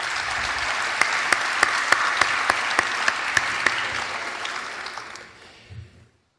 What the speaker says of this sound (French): Je pense très sincèrement qu'on peut les applaudir